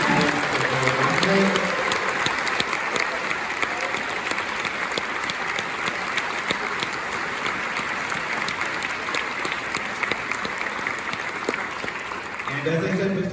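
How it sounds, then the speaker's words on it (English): Theater audience at the Castro Theatre applauding after a Joe Dante screening Q&A, loud continuous clapping from a full house lasting over ten seconds, with faint talk near the start and end. "Can we give a round of applause?"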